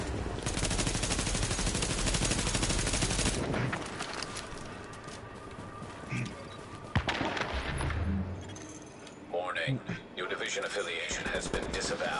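Video game gunfire: sustained machine-gun bursts and shots, loud and continuous at first, then sporadic over a noisy battle background, with voices talking over it.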